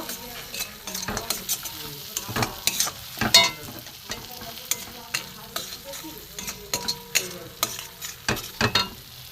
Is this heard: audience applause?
no